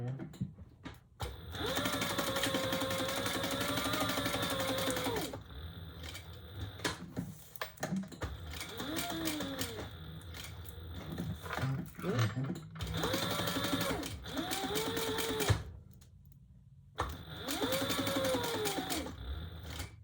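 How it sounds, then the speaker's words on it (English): A sewing machine stitches hook and loop tape onto a fabric travel pouch, running in several loud whirring bursts separated by short pauses, with handling clicks in between. "Okay, and then we're gonna sew both of those on."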